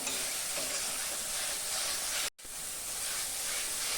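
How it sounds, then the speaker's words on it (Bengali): Cumin and mustard paste frying in onion masala in a pan, a close, steady sizzle and hiss broken by one brief silent gap. "এখন আমি জিরা আর সরষা বাটাটা দিয়ে দেবো"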